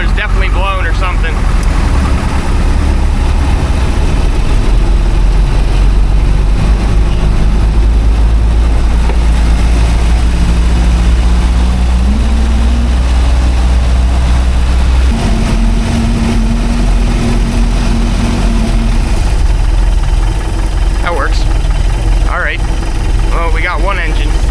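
A broken one-of-a-kind classic boat with a blown drive coupler, running on its one working engine, idles with a loud, steady low rumble and a wavering drone, while a person talks over it throughout.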